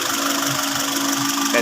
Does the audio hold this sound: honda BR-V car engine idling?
yes